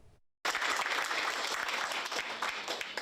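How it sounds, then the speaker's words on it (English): A crowd gives sustained, dense applause for disaster responders from eastern Kentucky at an indoor reception in Breathitt County, with the clapping rising suddenly after a brief pause and continuing steadily. "All applause for disaster responders from across eastern Kentucky."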